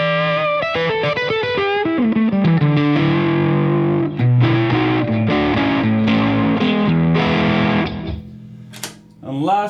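Heavily fuzzed, distorted electric guitar chords and notes played through a fuzz drive pedal with a thick tone, loud and up close, ending in a brief squeal of feedback.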